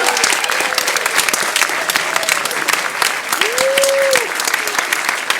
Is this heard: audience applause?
yes